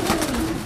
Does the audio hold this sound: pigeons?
yes